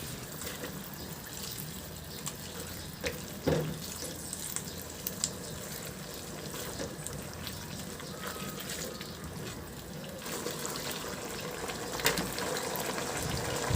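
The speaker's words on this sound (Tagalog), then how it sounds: "Maglagay na rin ako ng slurry. Cornstarch yan na tinunaw ko sa tubig." Cornstarch slurry poured into a simmering fish dish in a home kitchen: a soft, steady bubbling sizzle with faint liquid splashes and a couple of light clinks, quiet throughout and with no talking.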